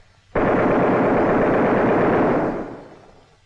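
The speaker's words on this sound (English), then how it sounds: "As soon as he gets in range, fire a 2-second burst." A sustained roar of rapid machine gun fire from a WWII bomber gunner's position, a loud continuous burst of about two seconds that cuts off abruptly and fades, heard alone with a dense rattling texture.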